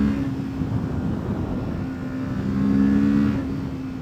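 Kawasaki Ninja 650 parallel-twin engine pulling steadily in third gear, a sustained near drone with a constant tone and a slight swell toward the end, no voices.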